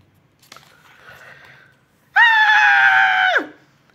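A girl lets out one long, loud, shrill scream at a spider, sustained for over a second before cutting off, preceded by faint rustling and a brief click.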